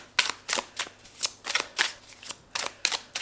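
Oracle cards are shuffled and drawn in quick, repeated riffling bursts, about a dozen crisp close swishes in an uneven rhythm, with no voices.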